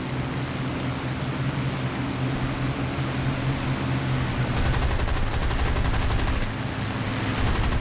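Aircraft guns firing during a War Thunder dogfight: two longer rattling bursts and a short final one cut through a constant droning engine roar, loud and close.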